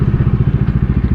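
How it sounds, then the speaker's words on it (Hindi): Bajaj Dominar motorcycle engine while riding on a solo trip, a loud, close, rapid thumping pulse with a steady chugging rhythm and slight clatter, dominating throughout. "बाइक का आवाज़ सुन रहे हो आप लोग?"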